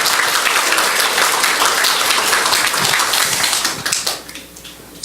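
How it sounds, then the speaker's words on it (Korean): A church congregation at a combined praise worship service claps loudly and densely for about four seconds, then the applause thins out and fades away. "감사의 박수 함께 드리겠습니다."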